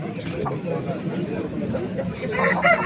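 A rooster crows amid the bustle of a poultry market in Qumtepa, Fergana, its call rising over a background of clucking fowl and people chatting and bargaining nearby.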